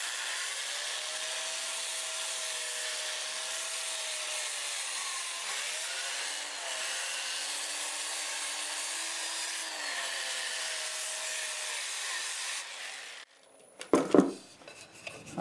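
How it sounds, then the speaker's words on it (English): A wood lathe turns a zebra wood segmented bowl at 400 RPM while it is sanded. It makes a steady, close rubbing hiss with a faint motor whine that runs unbroken for about thirteen seconds, then cuts off and leaves a few clattering handling noises. "Lathe's going 400 RPM going forward."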